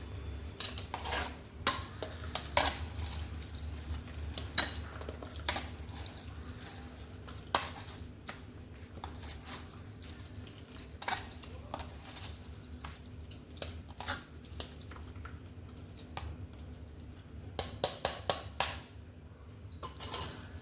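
A spoon pressing and scraping cooked bottle gourd and drumstick pieces in a pot to squeeze out the juice, with repeated irregular clinks and scrapes of metal against the vessel over a low background hum.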